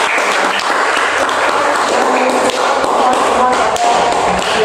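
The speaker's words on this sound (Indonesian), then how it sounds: "Kita beri aplaus untuk semua" Classroom applause for a group of teacher-training students, a steady dense clatter of many hands clapping that fills the whole stretch at even loudness with no pauses.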